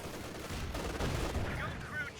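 Bazooka blasts and gunfire from the World War II strategy game Company of Heroes 2, a dense, loud battle din of explosions and shots sustained throughout, with a brief whistling tone near the end.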